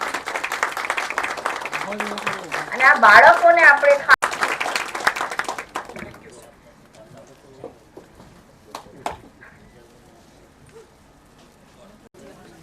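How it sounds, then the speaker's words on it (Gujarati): An audience claps loudly at a teacher award ceremony to honour a recipient. The dense applause lasts about six seconds and then fades, after which someone speaks over a few scattered claps. "જોરદાર તાળીઓથી આ વિશેષ વ્યક્તિત્વનું આપણે સૌ સાથે મળીને સન્માન કરીએ."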